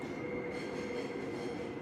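A subway train running through Seoul: a steady, continuous rumble of wheels on rails with a faint high squeal throughout, with no talk.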